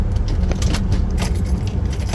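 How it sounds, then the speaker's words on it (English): Keys jangle loudly and close as a truck is shut off during tree removal work at Holy Land USA in Waterbury, Connecticut, a continuous metallic clinking over a low engine rumble. "let's turn the truck off"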